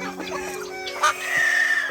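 Black Australorp laying hens cluck on an egg farm, close and fairly loud, with a sharp squawk partway through and a higher drawn-out call near the end.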